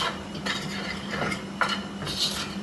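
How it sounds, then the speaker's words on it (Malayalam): Spoon scraping and clinking against a pot while mixing chicken masala, irregular close stirring strokes over a faint steady background hiss. "ഇനി എല്ലാം കൂടെ നമുക്ക് നല്ലതായിട്ട് മിക്സ് ചെയ്യും."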